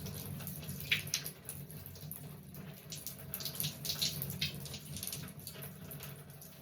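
Tap water runs steadily while soap is rinsed out of a pumpkin-stained piece of laundry, a continuous close splashing with brief bursts as the fabric is handled.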